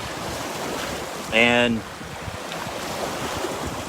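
Wake waves from a big passing boat washing ashore, a steady close rushing wash mixed with wind noise, briefly interrupted by a single spoken word.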